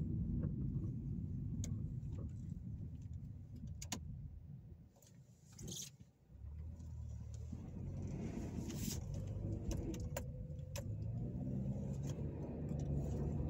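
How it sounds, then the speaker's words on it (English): Car driving on a rural road outside town, a steady low engine and road rumble heard from inside the cabin, with a brief dip midway and a few faint clicks and rattles. "So I'm gonna drive back into town here."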